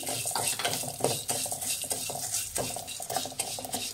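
A spoon scrapes and stirs coriander seeds dry-roasting in a pan over a medium flame, a steady close rattling and clinking with a faint sizzle throughout.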